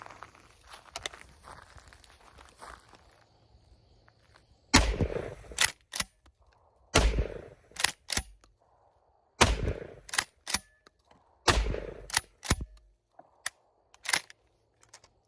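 Rock Island Armory Meriva 12 gauge pump shotgun, racked and fired outdoors: loud sharp reports follow clacking pump-action strokes, several shot-and-rack cycles in a row after quiet handling noises.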